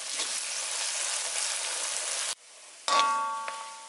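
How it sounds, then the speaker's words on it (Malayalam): Grated coconut frying in hot oil for Kerala-style Payyoli chicken, a loud steady sizzle that cuts off abruptly, then a brief scrape and a renewed hissing burst. "ഇപ്പോൾ നമ്മുടെ തേങ്ങ ഏകദേശം നന്നായിട്ട് മുരിഞ്ഞ് വന്നിട്ടുണ്ട്, നല്ല ഫ്രൈ ആയി വന്നിട്ടുണ്ട്."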